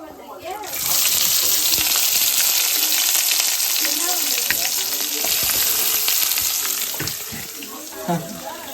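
Onions tipped into hot oil in a pan for chicken kulambu, a sudden loud crackling sizzle that stays strong and close, with faint voices talking underneath.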